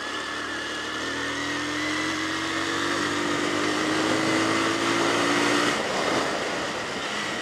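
A Bajaj Pulsar 220 motorcycle engine drones while riding near Pokhara, Nepal, a steady close hum with a slowly rising pitch over heavy wind rush, then easing off near the end.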